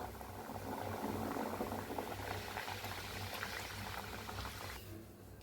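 Matar puris sizzle as they deep fry in hot oil, a steady, dense bubbling crackle close by that runs without pause and drops away sharply at the end.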